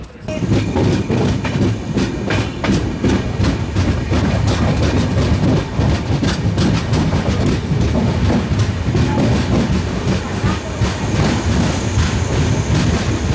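The Hampi Express passenger train, number 16591 on the Hubballi to Bengaluru route, runs on rails with a steady loud rumble and rhythmic wheel clatter throughout, and faint talk is heard.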